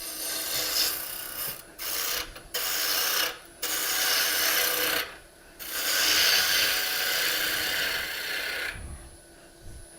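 A ball gouge cuts a small wooden ornament spinning on a lathe, giving loud, raspy scraping passes broken by short pauses as the tool lifts away.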